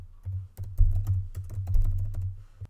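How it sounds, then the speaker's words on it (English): Rapid, close typing on a computer keyboard: a quick run of light key clicks with a few slightly heavier strokes over a few seconds, with no voices. "So I can type something like window.innerHeight."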